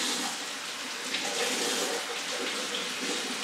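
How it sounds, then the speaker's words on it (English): Running tap water pours steadily over the roots of a Phalaenopsis orchid during a rinse, a constant close broadband splashing hiss with no voices. "So what I'm going to do now is just give it a little rinse."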